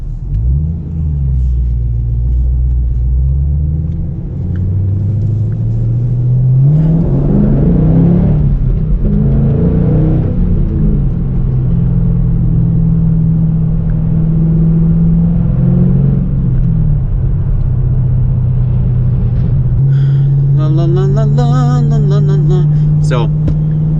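A car engine revs and pulls hard through corners on a road with traffic, its pitch climbing and falling with each burst of acceleration under a steady cabin rumble, and a voice talks over it.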